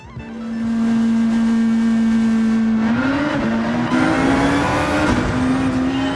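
An Audi RS5 Turbo DTM race car in Gran Turismo 7 on the Sardegna circuit, its engine holding a loud steady drone before rising through revs with gear shifts and a brief tire squeal.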